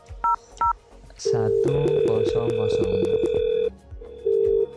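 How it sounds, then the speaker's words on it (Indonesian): A VoIP softphone linked to a FreePBX server dials out with two short keypad tones, then a caller's voice comes over a long steady ringback tone and a second tone returns at the end. "kita akan panggil dari softphone yang tersetting server 2 telepon ke softphone yang tersetting server 1"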